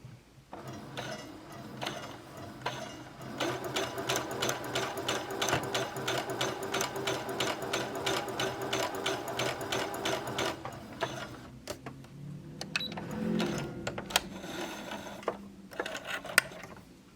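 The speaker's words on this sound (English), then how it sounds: "And I'm going to start sewing." A sewing machine stitches straight seams on felt in a fast, even mechanical rattle that runs for several seconds, eases off, then resumes in shorter bursts with some handling noise.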